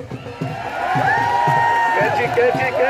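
Crowd at an outdoor village wrestling match claps and cheers, a dense continuous wash of applause and shouting close by, with a loud announcer's voice talking over it throughout.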